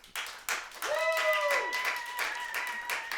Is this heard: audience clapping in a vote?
yes